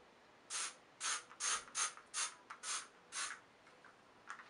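A can of Big Sexy Hair humidity-resistant, weatherproof hairspray is shaken in about seven quick rattling bursts, each a short metallic clatter, fairly close and alone, followed by a couple of faint later rattles.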